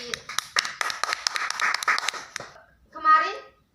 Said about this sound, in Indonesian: Tepuk tangan untuk Mbak Saski.